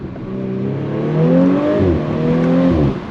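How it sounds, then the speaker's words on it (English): A B9 Audi S4 engine downshifts, its note climbing and then dropping through gear changes in a steady, fairly loud drone heard from the cabin. "I can confidently downshift"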